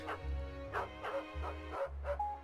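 Dog barking repeatedly in a football video game, a run of bow-wow barks and yips mixed with whimpers, loud and close over a steady low game hum.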